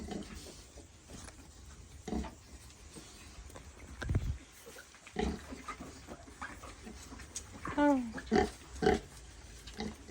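Newborn piglets in a pen at night, scattered grunts and short squeals close by, rising into a burst of higher squealing near the end, with some human voice mixed in.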